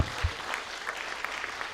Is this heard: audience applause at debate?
yes